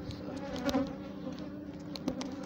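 Africanized honey bees buzz in a steady, dense drone near the beekeeper, with a few louder passes as individual bees fly close.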